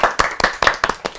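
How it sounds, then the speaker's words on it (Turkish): Studio audience claps for Fatih Emre Aslan during a Turkish talk show, a few sharp, close hand claps in a loose rhythm over a little more than a second, with no talking. "Fatih Emre Aslan için bir alkış rica ediyorum"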